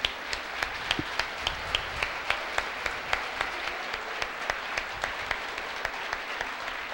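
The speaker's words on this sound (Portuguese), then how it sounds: "Uma salva de palmas." An audience at an opening lecture of a third-sector conference claps for the arriving speaker, mostly in a steady rhythmic beat of sharp claps over a softer wash of applause.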